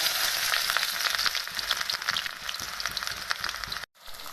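Onion fries in hot mustard oil in a kadai with a busy, crackling sizzle and a stirring rhythm, close and loud, breaking off briefly near the end.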